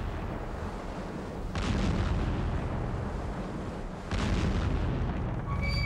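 Deck gun of a WWII Soviet Northern Fleet submarine firing signal shots for ships sunk, two heavy booming blasts a few seconds apart over a constant rumbling background.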